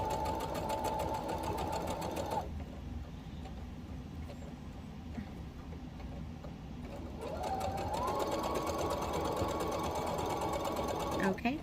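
A sewing machine stitches fabric for an infinity scarf in two steady runs of fast, even whirring, loud and close, with a quieter pause between them while the fabric is repositioned.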